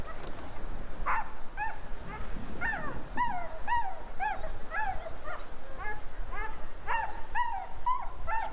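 A dog on a beachfront promenade in Puerto Banús, Marbella, whimpers and yips repeatedly in high, rising cries mixed with a few barks, fairly close and loud over outdoor ambience.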